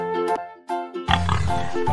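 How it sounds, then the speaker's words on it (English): A pig grunts and oinks in a few short nasal bursts, followed by a rougher, noisier run of snorting grunts, close and clear with no talk. "P for pig."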